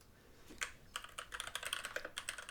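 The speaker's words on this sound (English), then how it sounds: "listen to my noisy keyboard" A noisy computer keyboard clatters with quick, uneven keystrokes close to the microphone, sparse taps at first then a dense burst of rapid typing, fairly quiet overall with no talk.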